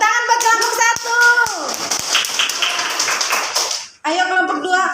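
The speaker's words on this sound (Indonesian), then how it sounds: "Tepuk tangan buat kelompok" A class of students claps for a presenting group, a brief burst of clapping mixed with chatter and a voice, then the teacher starts speaking again.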